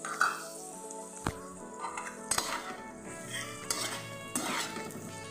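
Dried coconut fries in a pan with a soft sizzle, punctuated by several sharp clinks and scrapes of a spoon against the metal, close and fairly quiet.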